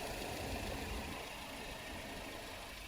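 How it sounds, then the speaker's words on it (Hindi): An Audi A4 40 TFSI with a turbocharged four-cylinder, 190 hp engine idles with a faint, steady, even hum and no revving. "ऑडी का फेमस TFSI इंजन है ये"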